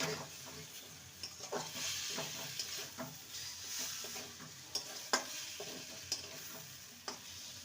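Potatoes stirred in a pan with spices and hand-crushed kasuri methi for a vegetarian aloo dum, a spoon scraping in soft irregular strokes over a low frying hiss, close and fairly quiet.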